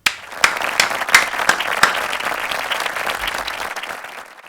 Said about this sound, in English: Let us give them a round of applause for their nation-building effort.